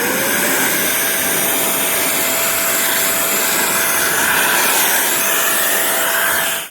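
A ROEDIX electric compressed air duster, a three-speed 100,000 RPM keyboard cleaner, blows in a loud, steady, high-pitched rushing whine that holds without a break from start to finish.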